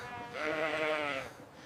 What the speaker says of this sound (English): The goats are thriving this year.